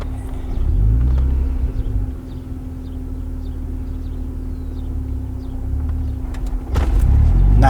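An Acura NSX with a manual gearbox pulls away as the clutch is let out, its low engine rumble steady and close inside the car, swelling again near the end.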